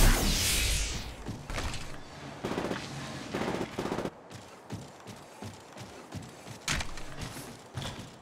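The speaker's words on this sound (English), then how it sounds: "Shots fired and they're hitting me." Gunfire in Apex Legends Mobile, bursts of rapid automatic shots and single cracks at close range, loud and irregular with short gaps between volleys.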